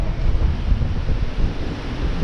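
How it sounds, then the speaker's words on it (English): Strong wind buffeting the microphone on an open Dartmoor hillside, a loud continuous low roar without any letup. "The wind's really picked up."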